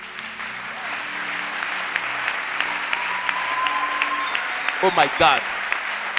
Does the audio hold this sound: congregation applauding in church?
yes